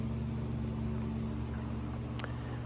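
The engine of a Rans S9 light aircraft drones in a steady, even hum through the whole short stretch, with a faint brief click near the end.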